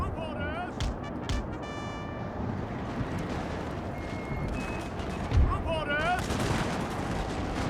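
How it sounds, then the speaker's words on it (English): Medium artillery battery firing in Napoleon Total War, a Napoleonic-era strategy game, with booming cannon reports and gunfire spread through a dense battle din, one heavier thud standing out midway, while someone talks over it. "Battery reporting. Artillery reporting. Medium artillery."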